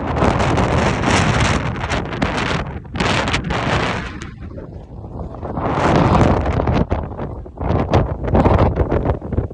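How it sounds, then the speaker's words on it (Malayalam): Strong gusts buffet the microphone on a misty hilltop at Varattumedu, making loud, rumbling wind noise that surges and eases in uneven waves. There is a short lull midway. "ഭയങ്കര കാറ്റ്, മഞ്ഞ് വന്നിട്ടുണ്ട്."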